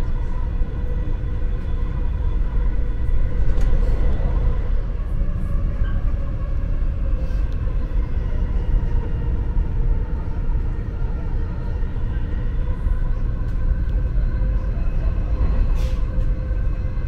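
A Dubai Metro train running along its line, with a steady loud low rumble and faint high squeals, heard from inside the carriage, while talk is heard over it.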